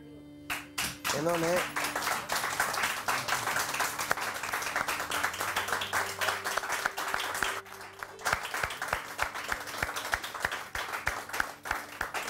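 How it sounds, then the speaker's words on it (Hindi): Studio audience applause on a live morning television show, a dense steady patter of many hands clapping for about twelve seconds, loud and close, with a host speaking over it. "इनके लिए जोर से तालियां बजाएं।"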